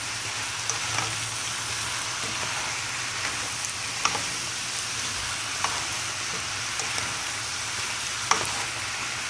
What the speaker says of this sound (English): add the potatoes and stir it in and let it cook for like about 3 to 5 minutes